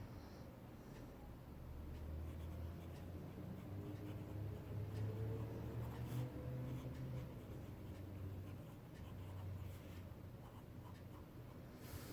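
A fine-nib fountain pen writes on paper with a quiet continuous scratchy rubbing, steady strokes, close and faint, with a low background hum and no talking.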